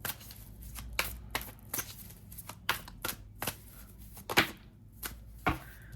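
Tarot cards are shuffled and drawn by hand, making a series of crisp, papery riffles and slaps in uneven bursts at close range against a quiet room.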